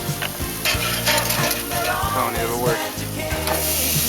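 Pizza searing on a grill, with a loud continuous sizzle, scraping and clattering from handling, and a short spoken remark over it.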